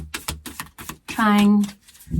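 Cards being shuffled in quick rapid bursts of riffling, followed by a person speaking briefly, all close to the microphone.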